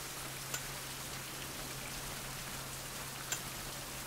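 Steady rain falls in the video game Survival: Fountain of Youth, a soft even hiss with two faint isolated ticks and no speech.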